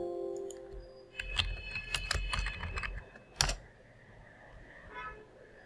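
A password tapped out on a computer keyboard in a quiet room: a short run of soft, quick keystrokes followed by one louder, firmer key press, then stillness.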